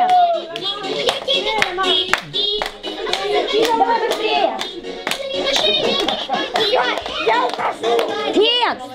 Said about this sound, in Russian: Встречаем Романа аплодисментами!